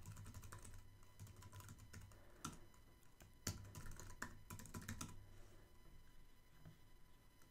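Computer keyboard typing while logging into Heroku from a terminal, a steady run of quiet, close key clicks with a few sharper taps and no voices.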